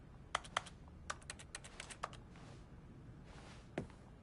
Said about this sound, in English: maybe this game thinks I'm playing on a computer and that's why it makes the noises for the clicking